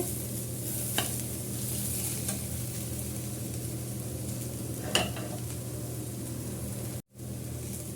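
Vegetables for veg noodles stir-fry in a pan with a steady, close sizzle and a low continuous hum, a few sharp scrapes of the spatula cutting through before a brief drop near the end.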